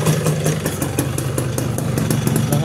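A 1999 Yamaha SS 110 motorcycle engine idles steadily up close, with a continuous rapid putter and light mechanical clatter throughout and no talking over it.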